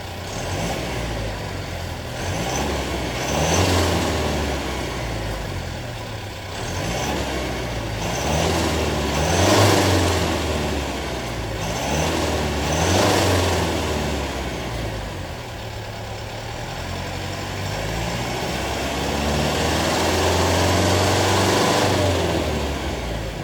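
The engine and turbo of a 2025 Mitsubishi Triton GL 4WD pickup rev up in repeated surges over a steady idle, each swell rising and falling back, heard close by with no talking.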